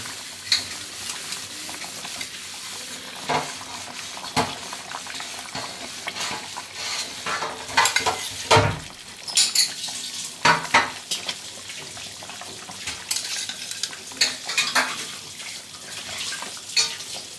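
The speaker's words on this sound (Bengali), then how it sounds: "ঝোলটা আমার ফুটে গেছে, এবারে আমি মাছগুলো দিয়ে দেবো।" Bata fish pieces go into a boiling curry in a pan, with sputtering and simmering broken by uneven stirring scrapes and clanks that come and go throughout, close and moderately loud, with no talking.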